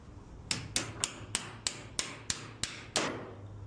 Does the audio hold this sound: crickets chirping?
no